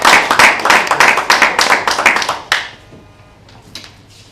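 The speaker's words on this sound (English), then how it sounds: "So please give him a round of applause." A live audience at a teen community event applauds for a singer, a dense burst of clapping for about two and a half seconds, then thinning to a few scattered claps.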